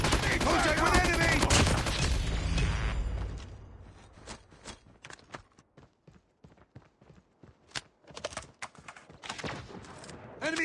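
Rapid bursts of gunfire in a Call of Duty shooter game, dense and loud at first, then scattered sharp shots and clattering bursts over quieter stretches, with voices calling out between them.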